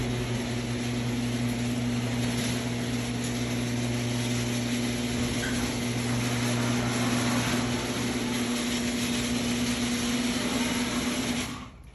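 Garage door opening: a steady mechanical motor hum with a constant tone, moderately loud and unbroken for about twelve seconds, stopping near the end.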